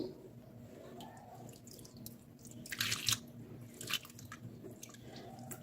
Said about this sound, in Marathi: हे पाणी आपण ह्या पाण्यातून काढून दुसऱ्या पाण्यात टाकून घेऊ